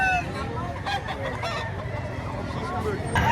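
Chickens at a live poultry auction market in Lipa City, with clucks and crowing scattered over a dense, loud crowd murmur and steady background chatter throughout.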